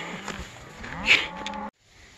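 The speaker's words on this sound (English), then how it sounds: "Not like these cows. You freaking dopes. Constantly screaming." A single long, drawn-out cow moo bellows loudly, then cuts off abruptly into near silence.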